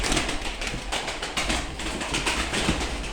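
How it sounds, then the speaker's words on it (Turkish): Young pet birds call in a room, soft repeated cooing notes over a steady background hum, with no talking. "Bakın abi kuşların hepsi başlamış."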